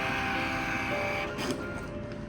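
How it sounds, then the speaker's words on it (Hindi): Receipt printer in a POS restaurant billing machine (Posytude Raze B88) feeding paper with a steady whirring hum, followed by a brief mechanical sound as the auto-cutter trims the slip, close and moderately loud. "और फिर मैं दोबारा इसको एक बार प्रिंट करके दिखाता हूँ"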